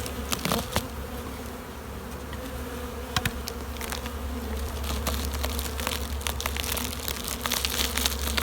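Honeybees buzz steadily inside an insulated hive in early spring, a close, continuous low drone with scattered crackles and rustles and no voices.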